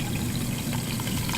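Apple cider vinegar poured into a near-empty tomato paste jar, a steady close gurgling pour with a hollow rush that runs through the whole moment.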